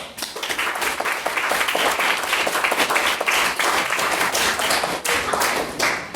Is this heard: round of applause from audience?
yes